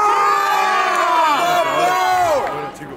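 At a Spanish-language rap battle in a national qualifying round, a crowd erupts in loud cheers, whoops and shouting voices that hold strong for a few seconds, then begin to fade.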